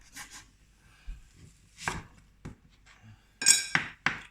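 A knife slices an onion on a cutting board for a chicken curry, giving sparse, irregular chops and clicks with quiet gaps between them, close and fairly soft, with no talking.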